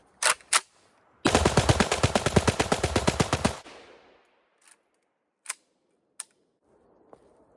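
Rapid burst of semi-automatic gunfire from a Pioneer Arms 556 rifle at an outdoor range, loud and close, about a dozen quick shots in a steady run, with a few isolated single shots before and after.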